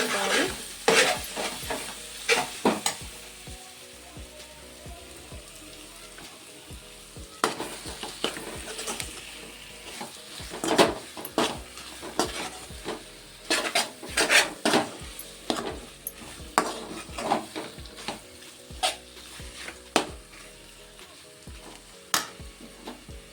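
Sliced bitter gourd and onion fry in a pan under a low sizzle while a spatula stirs repeatedly, making irregular close scrapes and knocks against the metal through the whole stretch, with no speech.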